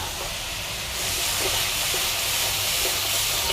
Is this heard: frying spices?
yes